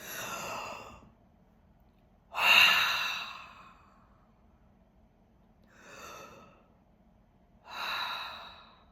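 Slow, deep breaths during a self-care breathing exercise: four long airy exhalations, each fading out into quiet gaps, close and fairly soft with no talk.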